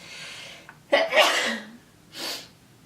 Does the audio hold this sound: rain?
no